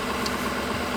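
A Ford PowerStroke diesel engine holds a high idle, giving a steady low drone with a hissy, noisy texture and no change in pitch over about a second, heard alone without voices.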